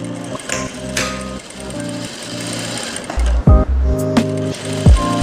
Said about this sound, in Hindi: ऐसे ही हम इस पे सिलाई लगा देंगे ऐसे जोड़ के